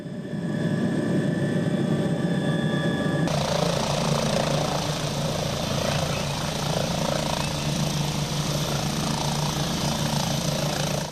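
A loud helicopter engine and rotor roar continuously during a medical evacuation flight, close and steady, with a change in tone partway through.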